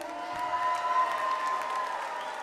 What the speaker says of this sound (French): Veuillez l'applaudir encore très fort, s'il vous plaît.